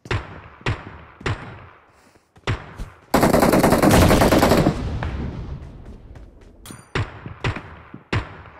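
Gunfire in a shooter video game match: sharp single shots spaced apart, then a dense, loud automatic burst lasting over a second, followed by more scattered close shots.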